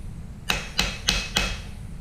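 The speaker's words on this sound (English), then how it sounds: "the much funner way is to take a real hammer and just whack it" A hammer strikes scrap silver on an anvil four times in an even rhythm, each blow a sharp, bright metallic clank, close and loud over a low background hum.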